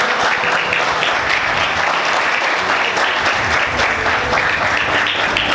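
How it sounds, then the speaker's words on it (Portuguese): Church congregation applauding the Lord, a loud, continuous wash of clapping from many hands that holds steady for several seconds. "Vamos aplaudir o Senhor."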